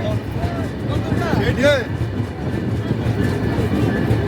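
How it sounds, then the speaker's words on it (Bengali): Ruposhi Bangla Express pulling into Narail railway station, a steady rumble of the moving train with a few high squeals of wheels or brakes, under crowd noise and a voice talking throughout. "ট্রেন এই মুহূর্তে প্রবেশ করছে নড়াইল রেলওয়ে স্টেশন"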